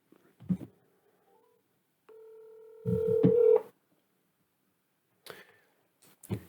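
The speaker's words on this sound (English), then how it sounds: "So let's dial up Kite House and see what we get." A telephone dials a business number, with a few faint tones followed by a steady ringback tone and short clicks, quiet and close, with brief background noises afterward.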